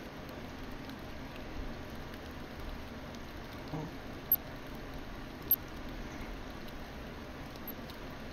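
Steady light rain pattering in the Fishing Planet video game, a soft even hiss that runs throughout at low volume, with a couple of faint ticks and no talk.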